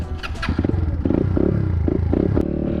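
An SSR 150cc dirt bike engine running close by, a loud rapid throbbing putter with short revving bursts and clattering mechanical texture over a few seconds, no voices.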